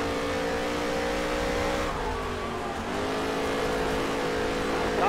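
Dirt race car engine roaring steadily at high revs around the Eldora dirt track in NASCAR Heat 3, pitch dipping briefly as if lifting off, then climbing back, loud and continuous with no talk.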